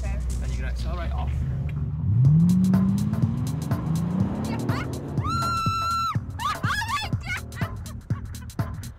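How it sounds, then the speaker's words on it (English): A Bentley car pulls away and accelerates on a track, its engine note rising steadily, then tires squeal briefly through a fast maneuver, with scattered clicks and knocks and a distant voice now and then. "you're going to accelerate off"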